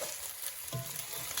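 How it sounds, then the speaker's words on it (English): Rice frying on high heat for mutton akhni pilau, a dense continuous sizzle with soft scraping from gentle stirring, close and steady, no talk. "I'm going to fry the rice for 5 to 6 minutes on high heat by stirring gently quite often."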